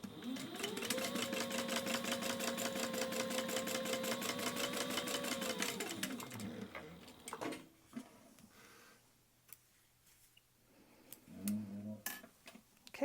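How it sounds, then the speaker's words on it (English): A sewing machine runs a steady, rhythmic stitch along a straight fabric edge at a quarter-inch seam for a phone neck pocket, whirring continuously for several seconds before slowing and falling quieter with a few softer bursts. "we're going to sew along this straight edge at 1/4 inch"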